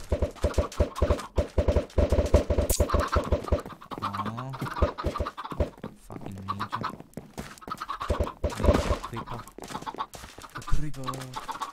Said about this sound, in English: Chicken, man, they're annoying as fuck.